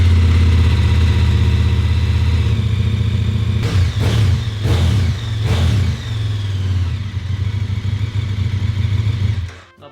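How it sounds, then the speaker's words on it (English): Motorcycle engines idling and revving, a KTM 1290 Super Adventure R LC8 V-twin with Akrapovic exhaust and a stock BMW R 1250 GSA Boxer, with a loud rumbling idle broken by three sharp throttle blips before cutting off. "it's more about the Boxer versus LC8 engine"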